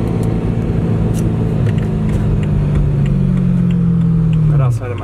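A car engine hums and rumbles while the car drives. The low drone rises gradually in pitch before dropping off near the end, and speech is probably present over it.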